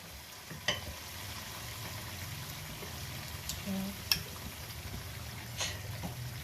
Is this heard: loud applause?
no